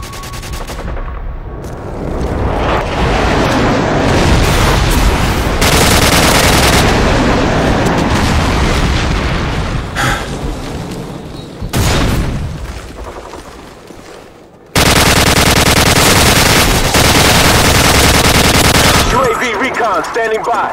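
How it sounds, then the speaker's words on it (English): Dense machine-gun fire and booming airstrike explosions fill a shooter game battle, loud and relentless with sharp bursts, a brief lull near the middle and a voice cutting in at moments. "Friendly airstrike on the way!"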